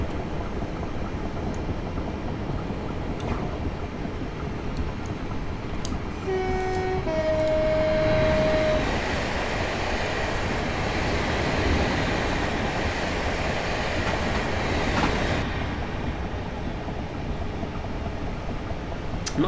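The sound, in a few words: passenger train running in video game Train Simulator 2018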